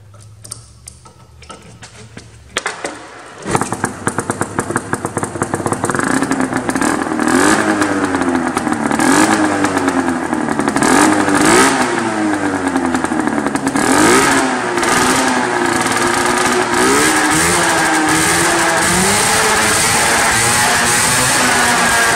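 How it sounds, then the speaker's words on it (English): A 600cc Phazer mod snowmobile engine fitted with a homemade mountain can, its tailpipe tacked on, starts after a quiet moment and then idles and revs repeatedly nearby with a loud, raspy, ticking exhaust note. "So I just kind of tacked my tailpipe onto the can. Just I want to kind of see what it's going to sound like."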